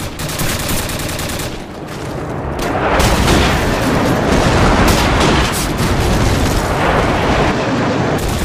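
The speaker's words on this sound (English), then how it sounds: "Friendly airstrike on the way." Airstrike explosions in the Call of Duty 4 video game, on the map Vacant, roar as a dense, loud, continuous barrage of booms and gunfire-like blasts building after a brief dip.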